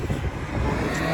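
A Mercedes A45 AMG fitted with an Akrapovič exhaust gives off a low, rumbling engine and exhaust drone, steady and fairly close, with no talking over it.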